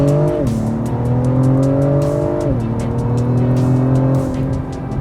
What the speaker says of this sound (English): Foot to the ground, 355 horsepower,